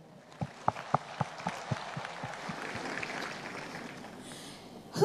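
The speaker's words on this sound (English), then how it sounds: "A wonderful round of applause for all of you who are here" Audience at the 43rd Botswana Sport Awards bursts into scattered, building applause in a large hall, starting with sharp individual claps and swelling into a dense, sustained round.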